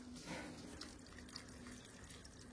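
Tap water runs in a steady, faint stream while plants are watered, a soft continuous splashing with a low hum underneath and no voices.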